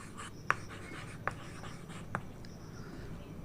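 Chalk or marker writing on a board during a Hindi-language English lesson, a soft continuous scratching with three sharp taps spread over a few seconds, close and fairly quiet with no talking.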